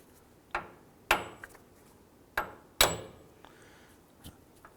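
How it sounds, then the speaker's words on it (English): Hammer taps on the ball joint stud of a 2004-2009 Dodge Durango's outer tie rod, with the nut threaded on: two pairs of sharp metallic strikes, close and ringing briefly, then a faint extra tap, no talk. "Now I'm going to go ahead and lightly tap the ball joint stud up top here."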